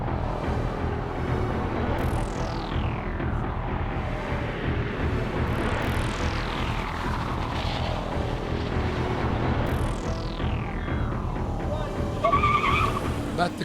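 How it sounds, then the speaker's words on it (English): A Jaguar XF races at the Simola Hillclimb, its loud engine roaring continuously while pitch sweeps climb and fall with each gear change off the line and up the hill. "And with starts like that off the line, carrying as much speed as possible up the hill into turn 3 was vital."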